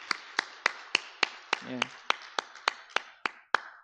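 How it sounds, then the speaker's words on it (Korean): A church congregation claps at a weekday evening worship service, about a dozen sharp, evenly spaced claps in a steady rhythm, close and fairly loud, with a brief spoken word in the middle. "예수님한테 영광의 박수 한번 올립시다"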